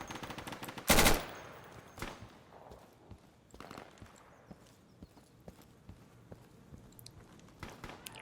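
Short bursts of machine gun fire in the military shooter game Insurgency crack out a few rounds at a time, one dense loud burst early, then scattered sharper shots and clicks over a quieter background.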